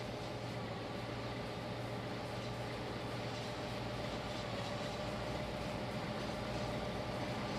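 A train rumbling over a rickety bridge in the railway simulation game Trainz: A New Era, a steady low, dense rolling drone with faint rhythmic clatter, continuous and even throughout.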